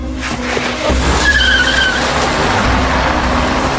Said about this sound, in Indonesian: yang tak lama ditabrak mobil hingga terlempar